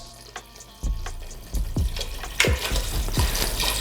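Water pours into a pot for homemade vegetable stock, arriving in a few splashing bursts that build into a steady, close running stream with clattering hits from the pot.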